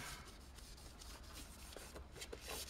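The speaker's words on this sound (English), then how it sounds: "rub that with IPA to see whether it will get any of the marks off it" A cloth soaked in isopropyl alcohol rubs across the plastic case of a ZX Spectrum computer, giving faint, close scrubbing strokes in an irregular back-and-forth rhythm.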